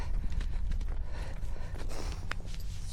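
A dressage horse walks on soft ground, its hoofbeats muffled and irregular under a dense, rumbling background noise, fairly close and continuous.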